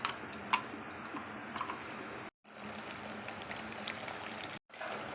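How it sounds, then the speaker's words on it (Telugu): Eggs frying in hot oil in a pan for egg fried rice, a fine continuous crackle and sizzle with scattered pops, near but faint, briefly cutting out twice. "ఇప్పుడు ఎగ్ వేసేసానండి, ఇంకొక ఎగ్ వేస్తున్నాను."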